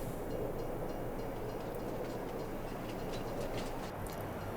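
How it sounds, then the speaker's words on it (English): A freight train arrives in Farming Simulator 22, a steady broadband rumble and roar with faint rhythmic wheel clicks that holds at a constant loudness, with no talking. "Should be a train coming any minute, but it might be a while."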